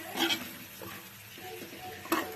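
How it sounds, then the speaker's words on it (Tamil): Chicken stirred with tomato and curry leaves in a pan, two crisp spoon scrapes against the metal at the start and end, with a soft sizzle in between, heard close. "இது நல்லா கிளறி விட்டுக்கலாம்."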